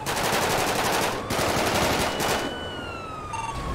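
AR rifle fire in the video game GTA 5: loud, continuous automatic bursts with a brief gap, then a rising, wailing police siren takes over as the shooting fades.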